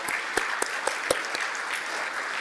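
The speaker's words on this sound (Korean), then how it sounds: "건강하시라고 박수 한번 쳐드리면 어쩔까" A congregation at a Won Buddhist Sunday service at the central headquarters claps together in a steady, dense round of applause, with a few sharper hand-claps standing out, sustained evenly throughout.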